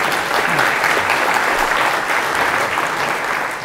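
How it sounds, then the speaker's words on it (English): Conference audience applauding a speaker, a loud, continuous wash of clapping from a full room that holds steady for several seconds and fades slightly at the end. "let's have a second round of applause for Coté"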